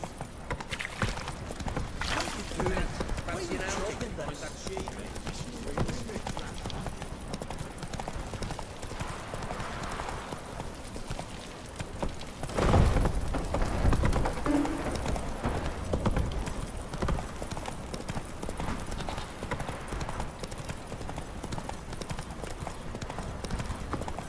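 Horse hooves clip-clop at a steady gallop in the open-world fantasy game The Witcher 3: Wild Hunt, a continuous loud drumming with a brief heavier burst midway and faint game ambience underneath.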